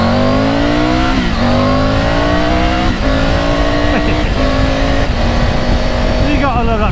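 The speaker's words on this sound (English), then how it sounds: "You gotta love that triple engine." A Triumph Tiger 900 with a triple engine on new Michelin Road 6 tyres accelerates hard through the gears, the loud close engine note rising and dropping at each shift under steady wind noise.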